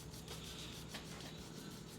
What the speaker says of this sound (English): It's just carving and sanding and sanding and carving